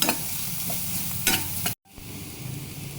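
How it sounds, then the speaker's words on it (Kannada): Grated carrot sizzles and fries steadily in a pan for Goli Kadubu, with a couple of stirring scrapes before a brief pause and the frying resumes, close and moderately loud. "ಸ್ವಲ್ಪ ಒಂದು ಕ್ಯಾರೆಟ್ ತುರಿ ಹಾಕ್ಕೊಳ್ತಾ ಇದ್ದೇನೆ ಇದನ್ನು ಸಹಿತ ಒಂದು ನಿಮಿಷ ಫ್ರೈ ಮಾಡ್ಕೊಳ್ಬೇಕು"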